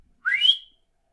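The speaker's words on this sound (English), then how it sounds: "I'm gonna whistle" A person gives one short, rising whistle lasting about half a second, clear and alone against silence.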